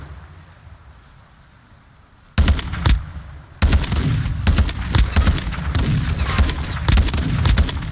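Gunfire in the video game Call of Duty DMZ: after a quiet stretch, loud sharp shots erupt and grow into a dense, continuous volley of rapid bursts close by.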